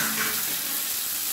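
Onions and a small tomato frying in a pan with oil, giving a steady, close hiss of sizzling throughout, with no talking.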